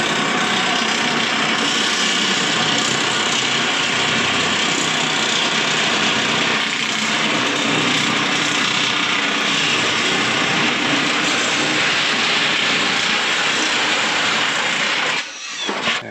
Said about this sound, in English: I use the nibbler. I get the best cut, it doesn't leave scratches